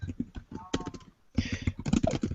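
Computer keyboard typing in the background of a sports podcast recording, with bursts of rapid clicking mixed in among people talking.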